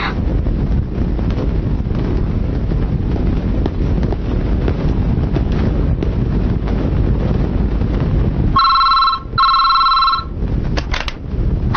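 A telephone rings twice in a film scene, two bursts of electronic bell tone near the end, after a long stretch of rumbling, wind-like background noise.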